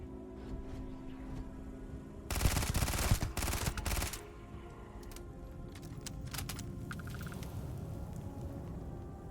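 A short, loud burst of rapid automatic gunfire in the video game Starfield cuts through a quiet game ambience, followed by a few scattered lighter shots and clatter.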